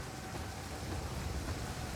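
Heavy rain falling in the strategy game Total War: Pharaoh, a steady dense wash of rainfall with low rumbling underneath, continuous and even throughout.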